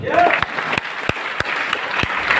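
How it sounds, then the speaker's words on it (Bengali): Steady audience applause fills a meeting hall at a Vestige gathering at the Fantasy Kingdom party centre in Ashulia, Savar, Dhaka: dense, continuous clapping from many hands, loud and close, with a few sharper claps standing out. "জোরে একটা হাততালি"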